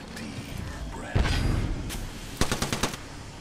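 Automatic gunfire rattles in Apex Legends, with a heavy burst near the middle and a quick run of sharp, evenly spaced shots toward the end, loud and close in a game firefight.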